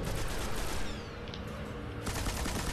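Rapid gunfire in Destiny as players shoot at the Shrine of Oryx, a dense continuous burst of shots up close, easing briefly in the middle before resuming at full intensity.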